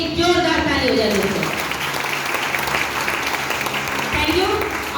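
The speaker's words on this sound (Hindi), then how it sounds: "मैं चाहूंगी मिस्टर नरेश कुमार मिश्रा सर के लिए एक जोरदार ताली हो जाए।" An audience at a stage event breaks into loud, sustained applause, a dense wash of many hands clapping throughout, with voices faintly mixed in.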